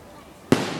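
A firework explodes at a 2013 outdoor fireworks show, a single sudden loud boom halfway through that hangs on as a rumbling tail, after quiet ambience.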